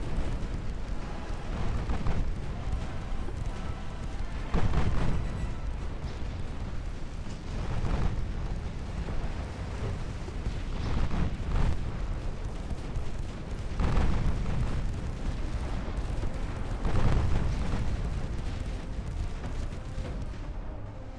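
Torpedo hits exploding against warships in the naval battle game Ultimate Admiral: Dreadnoughts, a run of heavy booming blasts surging every few seconds over a constant low rumble, loud and close.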